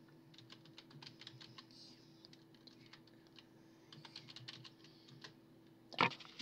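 Soft clicks of typing on a computer keyboard, entering a Minecraft register command and password, come in quick irregular bursts over a low steady hum, ending in one louder sharp knock.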